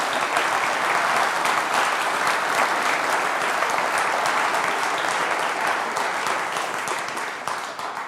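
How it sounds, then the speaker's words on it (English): Conference audience applauding at a Northern Research Group afternoon session, a dense, steady wash of many hands clapping that holds for several seconds, then begins to thin and fade toward the end. "Please join me in giving them a big round of applause."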